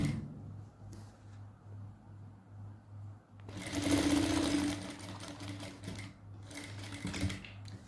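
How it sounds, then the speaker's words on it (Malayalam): A sewing machine stitching straight pants runs in a steady mechanical whir, pausing briefly before starting again louder and faster, heard close with no talking. "അവിടെ വരെ വെച്ചിട്ട് ഇങ്ങനെ ഒന്ന് സ്റ്റിച്ച് ചെയ്തെടുക്കുക."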